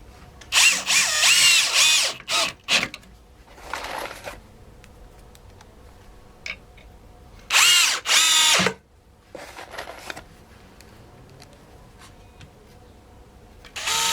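A Metabo PowerMaxx BS 12 BL Q 12V cordless drill on drill setting, second speed, whirs in short bursts, spinning up and stopping several times with quiet pauses between runs.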